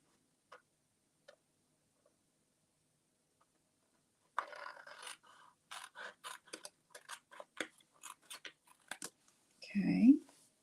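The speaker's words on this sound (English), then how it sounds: "you just slide your scissors along the edge here." Scissors snip through paper in a quick series of short, crisp cuts at close range, after a few quiet isolated clicks and soft words.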